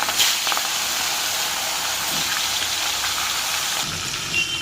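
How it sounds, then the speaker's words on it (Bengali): Hilsa fish go one by one into hot oil, giving a loud, steady hiss of frying close by, with a few brief crackles. "মাছগুলো এবার এই গরম তেলের মধ্যে ছাড়ছি এক এক করে"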